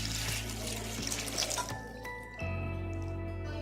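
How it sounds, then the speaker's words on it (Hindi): Water poured into a pressure cooker holding meat and lentils, a steady liquid splash that runs continuously and changes pitch partway through as the pot fills. "अब हम इसमें 2 गिलास पानी डाल देंगे।"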